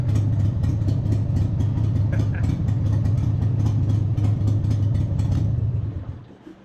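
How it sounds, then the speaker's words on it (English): Engine of a 1996 Harley-Davidson Sportster 883 XLH idling, a loud, steady low rumble with rhythmic ticking that holds for about six seconds before cutting off and fading out. "That's the 96 883 Sportster, the newest addition to the compound."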